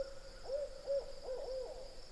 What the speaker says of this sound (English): I think it's an owl. It's up there in the forest somewhere.